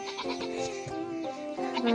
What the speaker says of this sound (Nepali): यहाँ हाम्रो बाख्रा छ